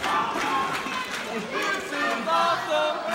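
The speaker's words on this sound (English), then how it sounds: "Listen to this chant go." A wrestling crowd chants during an all-out gang-war brawl at a pro wrestling show, the rhythmic voices loud and continuous, with mixed shouting and chatter throughout.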